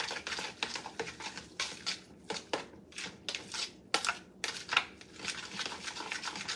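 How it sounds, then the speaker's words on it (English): Corn cream mixture being stirred together with chives in a bowl, a run of close, irregular scraping and clinking strokes of a utensil against the bowl with no talking. "now you're just going to mix that together"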